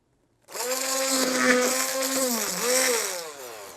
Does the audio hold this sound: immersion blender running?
yes